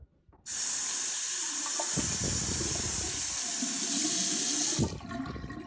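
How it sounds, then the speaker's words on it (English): Cold tap water runs steadily into a sink for several seconds, a loud, close rushing stream with splashing as something is rinsed under it, then shut off. "Give it another rinse with cold water."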